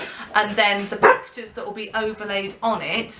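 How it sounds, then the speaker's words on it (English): Dogs bark and yip indoors, a few sharp close barks mixed in with someone talking steadily over them. "sorry, excuse my dogs"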